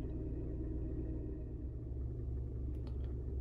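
A Kia Rio with around 200,000 km on it idles while warming up, a steady low engine rumble heard from close by, with a faint brief clatter near the end.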